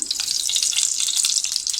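Hot oil sizzles loudly and steadily in a pot heated on a gas stove, a close, continuous crackling hiss that cuts off at the end.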